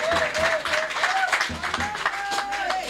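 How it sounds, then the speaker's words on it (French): A church audience applauds and cheers a couple at their 25th wedding anniversary celebration, a loud, brief burst of clapping mixed with shouts and an excited voice over the crowd. "Il faut bien l'acclamer, bien aimé, bien l'acclamer."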